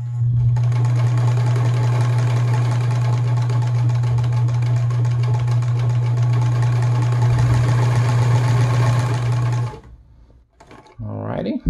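A Gritzner VZ (Kenmore 117.740) sewing machine sews a straight stitch through layers of denim, its motor running in a loud, steady hum for about ten seconds before stopping, followed by a short voice.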